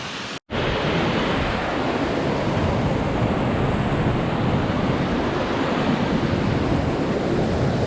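Steady, loud roar of ocean waves and wind near a mountain waterfall, a continuous close wash of noise after a brief cut at the start, with no talking.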